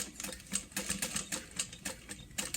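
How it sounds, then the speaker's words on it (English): A sewing machine stitching across fabric for a lunch box, a fast rhythmic mechanical chatter of needle strokes, steady and close, with no talking. "going to sew across this bottom area"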